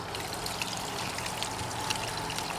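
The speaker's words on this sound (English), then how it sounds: "One of the main features of the fish pond, as we like to call it, is this nice waterfall effect that Valerie has set up" Small waterfall trickling into a garden fish pond at a nature reserve, a steady splashing hiss of falling water, close and continuous with no voices.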